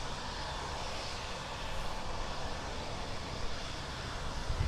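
An Air France Embraer jet at Birmingham Airport gives off a steady, moderately distant engine roar that holds evenly throughout with no voices.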